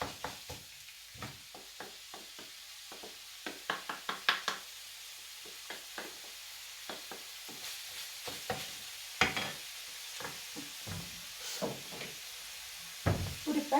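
Meat browning in a pan for spaghetti bolognese, a quiet scrape-and-stir rhythm of a utensil working through the meat, with scattered knocks and clatters over a faint, steady sizzle.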